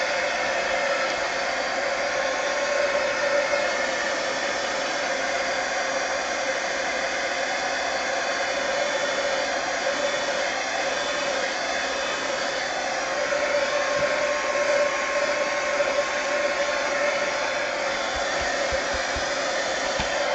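A heat gun dries an art journal page built on a cut-out adult coloring book image, giving a steady, loud blowing roar that holds evenly throughout with no talk over it.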